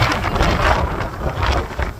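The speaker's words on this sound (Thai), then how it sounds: "ลมมันแรงขนาดไหนพี่น้องลมแรงขนาดไหน" Strong wind buffets an outdoor microphone with a continuous loud roaring rumble that surges and eases throughout, with no clear voices over it.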